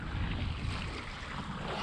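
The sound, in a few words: wind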